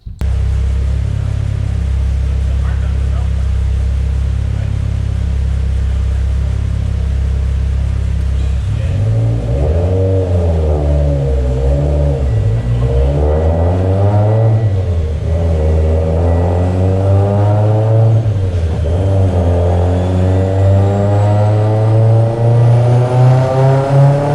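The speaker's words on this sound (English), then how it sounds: "Right now I'm dialing in the boost, so I'm not really revving all the way to red line" Mitsubishi Evo X with a Garrett G35-1050 turbo at 30 psi of boost, with Kelford cams and Carrillo rods: a loud, close engine that idles low, then revs repeatedly in rising and falling sweeps, short of redline.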